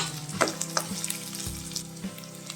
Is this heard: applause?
no